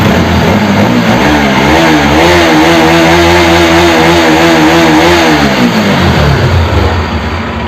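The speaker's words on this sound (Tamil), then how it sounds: "இன்ஜின் நாய்ஸும் செம்மையாக இருக்குது." A Bajaj NS 200 motorcycle engine runs loudly and steadily up close, its revs rising and holding before easing back down, with a rough mechanical rumble throughout.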